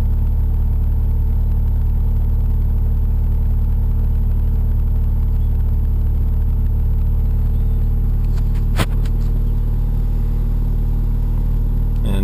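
Mazda RX-7 turbo convertible idling steadily after a cold start, a loud, even low rotary drone with constant hum and one brief click near the end, no voices over it.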